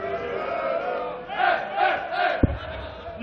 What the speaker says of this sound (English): But Rene Berndt, taking out 65 in 2 darts, is delighting the Glass Palace crowd